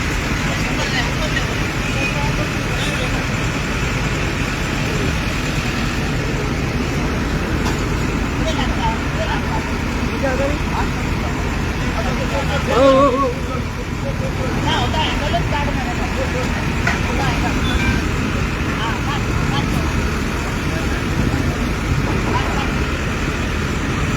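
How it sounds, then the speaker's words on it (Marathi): Jammed road traffic in Panaji, Goa, forms a steady roar of idling and creeping engines, buses and cars, with a constant murmur of crowd chatter and occasional horn-like tones throughout. "जो ट्रॅफिक आसा तो कसो हांगा परत एकदा जाम जाल्लो आसा ते तुम्ही पळोवंक शकतात"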